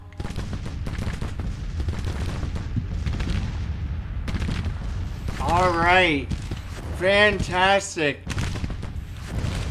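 Artillery and gunfire rumble through a Grand Tactician battle, with dense distant booms and shots under steady noise while someone talks and a horn-like wavering tone rises.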